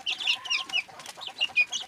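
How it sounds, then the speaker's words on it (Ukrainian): Seven hens and three roosters clucking while feeding on compound feed, a busy overlapping chorus of short clucks and calls, close and fairly loud with no talk. "тут сім, е, сім курочок і три півника"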